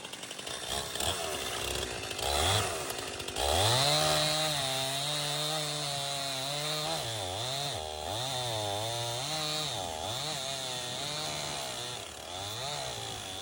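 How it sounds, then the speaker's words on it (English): A loud chainsaw with a dull chain runs steadily on a farm, its engine pitch rising and dipping repeatedly as it bites into wood, continuous with no talking. "Chainsaw needs sharpened."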